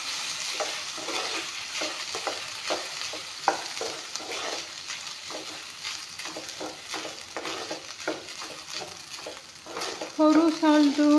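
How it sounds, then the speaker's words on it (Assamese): Soaked rice fries in refined oil in a pan, giving a steady close sizzle broken by frequent scraping stirs, with a brief voice at the end. "অলপমান ভাজি ল'ম।"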